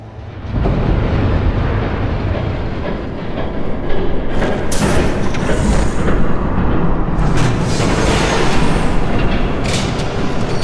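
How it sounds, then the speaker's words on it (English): A train rumbles toward the listener in a Batman Telltale game, a loud, steady, broadband roar building throughout with a rising hiss and clatter, no talk over it. "There's a train coming."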